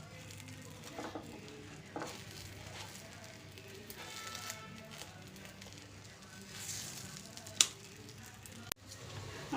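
Quiet, steady sizzling of breakfast frying in oil in a pan, with soft crackles and a few clinks of a utensil, plus a louder knock near the end.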